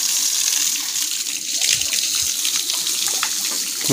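Water gushes and splashes continuously while a cow is bathed in a village, a loud close pouring stream with no talking.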